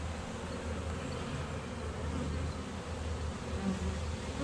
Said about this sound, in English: this little nuke is going to go into winter with a lot of new bees